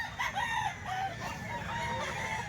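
Roosters crow at a cockfighting chicken market, with several overlapping crows and clucks rising over a dense, busy background of many birds that fills the whole stretch.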